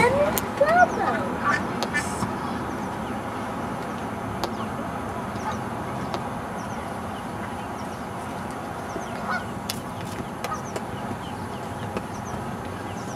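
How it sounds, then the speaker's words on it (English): Young ducks near a boat on the water give scattered short calls and chirps, mostly early in the clip and faint against background noise, while people talk nearby. "Oh, there's the baby ducks, Cameron. Look at the baby ducks."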